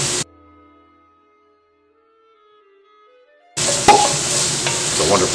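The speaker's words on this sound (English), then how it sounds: "So you want to saute the onions until they are translucent" Onions sautéing in a pan for Hungarian Csikós tokány stew on medium-low heat, a loud steady sizzle with stirring that bursts in after a long near-silent stretch holding faint tonal sounds.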